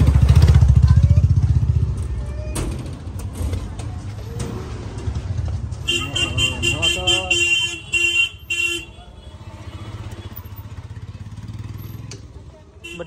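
Busy street traffic with engines and motorbikes passing close, rumbling at first, then a string of sharp honks and horn blasts.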